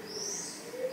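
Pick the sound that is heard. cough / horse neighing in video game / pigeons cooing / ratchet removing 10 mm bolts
pigeons cooing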